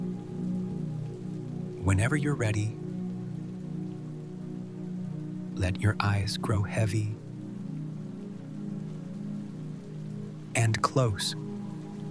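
Gentle, steady rainfall forms a soft continuous hiss under a calm, low spoken voice, with broadband patter persisting through pauses in the talk.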